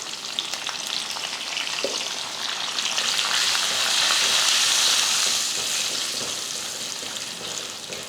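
Peanuts, dal and dried red chillies roast in a pan, giving a steady dry sizzle with stirring scrapes throughout, close and continuous.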